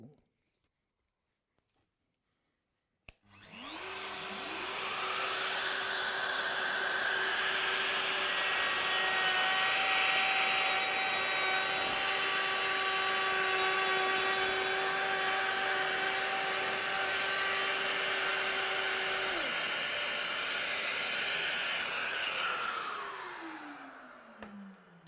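A Festool OF 1010 router cuts an arc with a trammel while a vacuum extractor is attached. After a brief silence, a loud, steady, whining roar runs continuously, then winds down toward the end.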